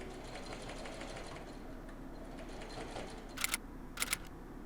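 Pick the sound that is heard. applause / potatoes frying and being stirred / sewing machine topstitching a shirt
sewing machine topstitching a shirt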